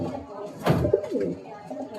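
A female pigeon at a Kolkata bloodline pigeon sale gives a short burst of soft, low cooing, close by and fairly loud, with a quieter rumble trailing after amid light background noise.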